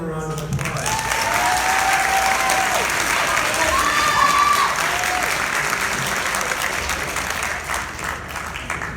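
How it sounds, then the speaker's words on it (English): An audience at a sports banquet breaks into sustained applause, with crowd voices and a few whistles rising over the clapping before it gradually thins out. "Can we give them a round of applause?"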